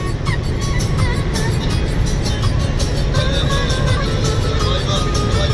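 Renault Megane 2 climbing a hill, heard from inside as a steady engine drone with road rumble; a voice speaks briefly over it.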